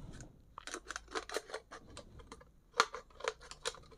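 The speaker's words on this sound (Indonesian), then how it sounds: "kita gunting tengah dulu oke kita gunting memutar seperti ini" Scissors snip around a plastic drink bottle in a rapid, irregular series of close, crisp cuts with brief pauses, and no one talks.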